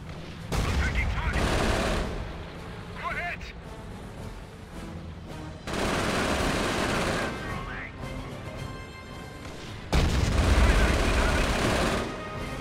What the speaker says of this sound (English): Now testing the early anti-pack against early vehicles of the Panzer Elite.